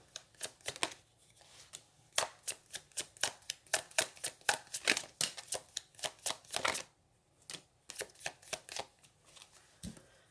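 Tarot cards shuffled by hand in quick bursts of crisp, close riffling clicks and slaps, pausing briefly before more rapid shuffling, with no talking.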